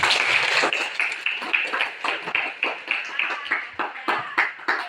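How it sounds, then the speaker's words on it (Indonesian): A high school class claps together in a classroom, a dense run of many hands that settles into a loose rhythmic beat and fades in waves, with no talking over it. "Tepuk tangan dulu"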